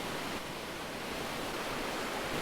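Steady broadband rush of Black Creek flowing along a Bruce Trail hike near old sawmill ruins, a constant even wash of water with no voices.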